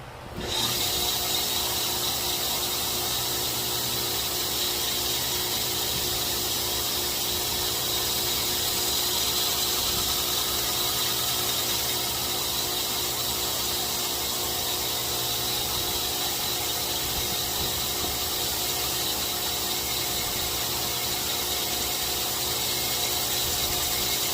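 A knife edge being finely stropped to take off the last burr, a continuous close rasping and rubbing that stays steady and fairly loud for the whole stretch, with no talking.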